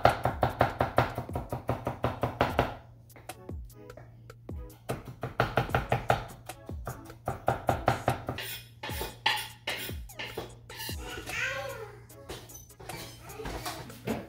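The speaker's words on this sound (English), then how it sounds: "I'm gonna chop up some cilantro" A knife chops cilantro on a cutting board in quick, close, rhythmic bursts of sharp taps, pausing briefly between runs of strokes, with some kitchen clatter toward the end.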